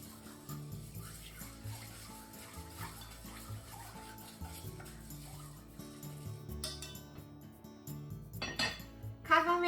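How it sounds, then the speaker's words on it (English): Rice and broth with scallops, salt and hondashi stirred in a pot for takikomi gohan: quiet clinks and scrapes of a utensil against the pot over a soft background hum, growing busier and louder toward the end. "Give it a stir."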